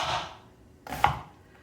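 A knife thinly slicing cabbage on a cutting board, two crisp cutting strokes close by, the second ending in a sharp knock against the board.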